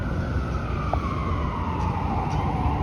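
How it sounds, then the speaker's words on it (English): A distant siren wails steadily behind dense street and traffic noise on Yonge Street in Toronto, its pitch slowly drifting, with no talking. "And I'm hearing more sirens."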